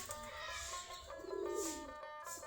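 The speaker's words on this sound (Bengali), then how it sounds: "আমাদের দেশি গিরিবাজ কবুতর সবগুলো এখন খাবার খাচ্ছে।" Native Giribaz pigeons cooing softly while feeding at their coop, low throaty coos with faint chirps and shuffling, fairly quiet.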